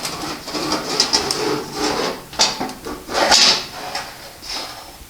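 Bumper grill of a Triumph TR4 being worked loose and pulled free, a few close metallic scrapes and clunks spread over several seconds.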